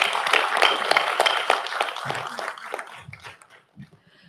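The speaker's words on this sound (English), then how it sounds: "can we please have a huge round of applause for Team Neotricks?" Audience applause for a student team at a grand finale event, a dense wash of many hands clapping loudly near the hall, thinning out and fading toward the end.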